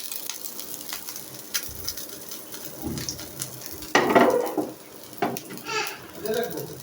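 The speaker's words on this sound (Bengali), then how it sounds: "তৈল ছাড়া ডিমটা ভেজে নিতেছি লবণ দিয়ে" An egg fries with salt and no oil in a pan just used for frying roti. A soft sizzle runs beneath scraping and clattering from a spatula stirring in the pan.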